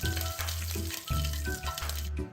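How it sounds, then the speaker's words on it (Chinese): A small spoonful of minced ginger sizzles in about 50 ml of hot cooking oil over medium heat for a char siu bao filling, a crackling fry with short pulsing bursts. "油热后，倒入1/4小匙姜末，中火爆香。"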